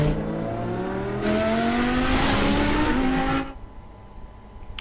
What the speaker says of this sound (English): I like the sound then the car was making in from the Batmobile.